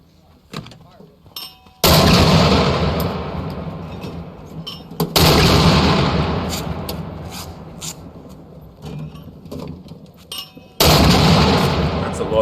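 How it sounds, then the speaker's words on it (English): Marines fire mortars at the US Marine Corps School of Infantry East: three heavy, booming launches, each followed by a long fading rumble, with voices talking faintly between them. "what size mortar is this"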